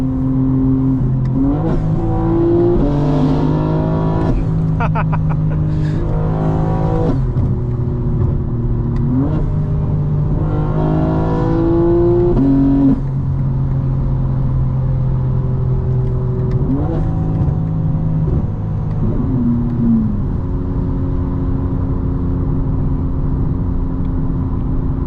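A 2025 BMW M4 Competition xDrive in four-wheel-drive sport mode with sport steering and chassis settings, its engine loud and continuous throughout, rising and falling through repeated revs and gear changes while driving on a road.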